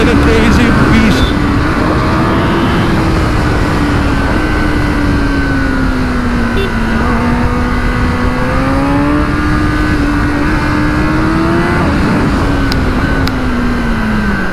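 A 2021 Kawasaki ZX10R motorcycle engine drones loudly and steadily while riding, its pitch rising and falling through gear changes, with wind rush and a voice talking over it.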